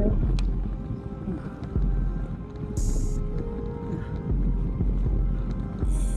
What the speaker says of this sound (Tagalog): dito medyo mahangin na ulit ng konti